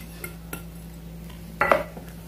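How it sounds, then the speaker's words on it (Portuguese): Spoon stirring an omelette mixture of eggs, tomato, bell pepper and chives in a bowl or pan, a few light scrapes followed by a sharper clatter of utensil against cookware. "Vou mexer um pouco."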